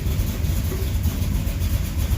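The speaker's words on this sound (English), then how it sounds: "Right around 600 RPM is where it's idling." A 1977 Chevy Camaro engine idles low and steady at about 600 RPM, a continuous rumbling throb heard up close with no talking.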